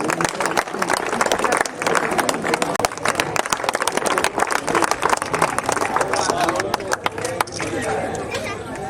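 Applause and cheering from a large crowd at an Indian patriotic tricolour rally honouring the army, loud and sustained throughout, mixed with crowd chatter and voices.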